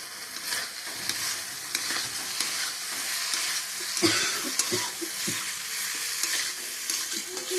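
Boiled potatoes sauté in a pan, a continuous low sizzle with intermittent scraping stirs and a few louder knocks of a spatula on the pan midway, close and without speech.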